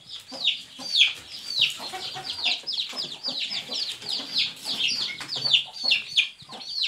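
Home-reared local chickens cluck and chatter continuously up close, a busy run of quick, repeated high calls with no voices over them.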